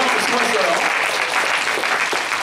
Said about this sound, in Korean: 혹시 한번 박수로 격려하고 수고했어요.